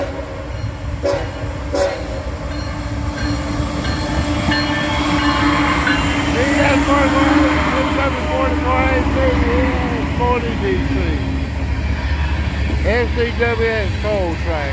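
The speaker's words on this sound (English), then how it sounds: "got three locomotives on the head end, and this is a coal train" A heavy coal train with three locomotives on the head end rumbles past steadily in Abbeville, with wheel and car noise throughout and a horn sounding in wavering blasts, talk partly audible over the roar.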